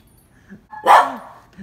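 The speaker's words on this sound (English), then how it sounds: "he just wouldn't stop barking at me" One loud close bark from a dog bursts out after a short quiet stretch, with faint small sounds before and after it.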